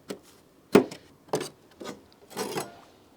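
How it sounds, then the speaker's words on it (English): A hand scribing tool scratches a shape onto a rusty Porsche 924 front wing body panel, heard as five short, close rasping strokes separated by brief pauses. "I'm gonna scribe this shape to the panel using this tool"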